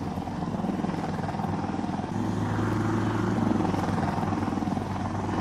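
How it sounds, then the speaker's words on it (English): Helicopter flying overhead in the shooter game Insurgency Sandstorm, a loud continuous rotor chop with engine drone that swells slightly as it passes. "But watch out, there is still that stupid chopper."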